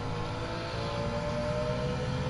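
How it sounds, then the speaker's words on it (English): A BMW straight-six engine with a tinny exhaust in a racing video game at Alsace Village, holding a steady droning roar with a sustained harmonic note and no talk over it. "Oh, listen to that sound of that engine. I've always found that these BMW exhaust systems are quite tinny, but I love the sound of the straight six."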